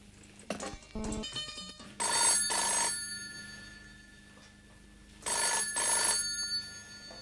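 A telephone bell rings in two long repeated bursts separated by a pause, loud and close, with some brief clicks before it and no talking.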